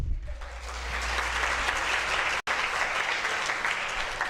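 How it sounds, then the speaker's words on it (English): An audience claps for a poet at an International Mother Language Day event, a full, sustained round of applause from many hands, steady and fairly loud, with a momentary dropout midway. "Maybe we should clap for the poet again."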